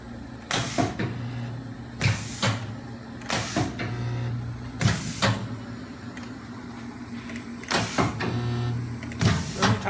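A PROFAB 25 KVA pedal-operated spot welder fires a series of about seven sharp, loud welding bursts at irregular intervals over a steady electrical hum, each burst a short crackling snap.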